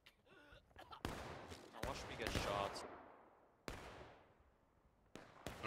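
Soldiers fire musket volleys in the War of Rights video game. Several loud, sharp cracks come in separate bursts, each fading in a long echoing tail, with rapid scattered shots between them.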